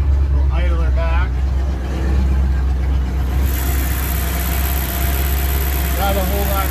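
A 1989 Four Winns Sundowner boat engine idles smoothly after a cold start, a loud steady low rumble that continues throughout while someone talks briefly near the start and end.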